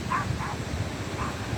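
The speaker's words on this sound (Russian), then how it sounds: "Всех обтявкала." A young, sociable dog barking at a crowded seaside spot on the Gulf of Finland, a few short yips and woofs over a busy background murmur.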